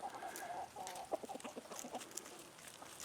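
Backyard flock of hens clucking softly, a string of short, irregular clucks and murmurs close by, with no talking.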